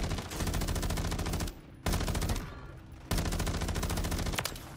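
Rapid gunfire from a weapon in Call of Duty on Rebirth Island: loud, dense automatic bursts that break off twice for a second or so before resuming, with no talk.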